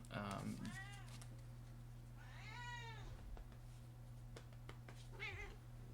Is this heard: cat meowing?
yes